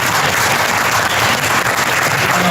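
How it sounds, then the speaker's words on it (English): Loud, dense applause from an audience, a steady wash of clapping close by throughout. "So let's give a round of applause to Hussein then."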